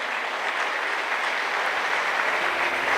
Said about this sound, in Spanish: Le damos ese fuerte aplauso al Rey de Reyes